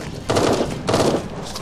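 Assault rifle fire in the video game Eden Star, two loud bursts of rapid shots about half a second apart, each ringing briefly, with no voices.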